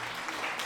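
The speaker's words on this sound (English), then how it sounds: "Thank you very much for the applause." A burst of applause plays as a sound effect during a live chat stream, a dense and even patter of clapping that lasts under a second.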